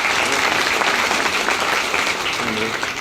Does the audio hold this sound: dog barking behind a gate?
no